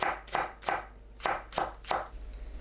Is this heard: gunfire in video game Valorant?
no